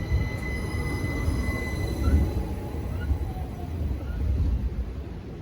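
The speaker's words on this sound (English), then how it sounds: "Departing now is the 1350 Southern service to London Victoria." A Southern Class 377 electric train pulls out of a London station bound for Victoria, giving a steady low rolling rumble with faint high wheel squeals and whines drifting over it, heard from the platform.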